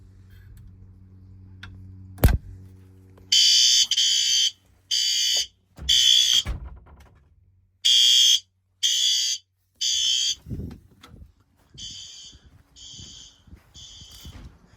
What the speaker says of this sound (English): I got my notification that the fire alarm system, or one of them, has gone off.